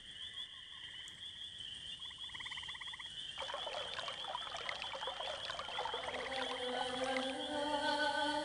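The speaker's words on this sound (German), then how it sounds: "Das magische Wasser strömt durch die Wurzeln der Dryade und erweckt sie zum Leben." Magic water flowing through a dryad's roots in the video game Quest for Glory 5, a soft trickling stream under layered tonal chimes and warbling musical tones that grow fuller and louder, with no speech.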